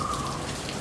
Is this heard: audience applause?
no